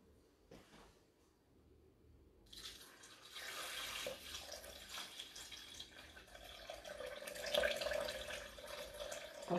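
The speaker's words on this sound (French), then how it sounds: "Je vais rajouter 800 g d'eau" Water poured into the bowl of an i-Cook'in food processor while making courgette risotto, a quiet start giving way to a steady splashing stream that swells louder toward the end.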